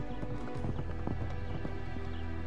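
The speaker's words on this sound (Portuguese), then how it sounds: "há poucas imagens tão comoventes quanto um bando de cavalos selvagens correndo pelas planícies" Wild horses galloping across open plains, a steady rush of clip-clopping hooves at moderate distance, continuous and layered with no voices.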